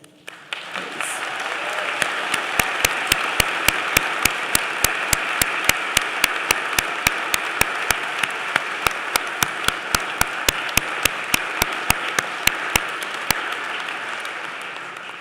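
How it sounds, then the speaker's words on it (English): Commencement audience applauding graduates: a sustained, full wash of clapping from a large crowd, with sharp individual claps standing out throughout and no speech. "please give a nice round of applause for our graduates"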